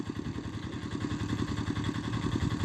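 A small rented tractor engine runs on a Namibian homestead during ploughing, giving a close, steady chugging idle with rhythmic clatter and no talk over it.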